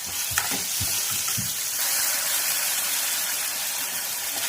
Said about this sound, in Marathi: आपलं छानपैकी टोमॅटो सुद्धा फ्राय झालेला आहे